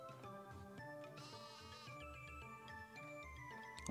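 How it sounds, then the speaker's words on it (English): Sheep bleat repeatedly in Final Fantasy III over a steady melodic game tune, the wavering calls standing out over the music. "Lots of sheep."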